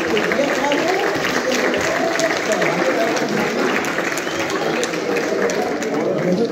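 An audience applauds at a premiere event, a continuous wash of many hands clapping with crowd murmur and voices mixed in throughout.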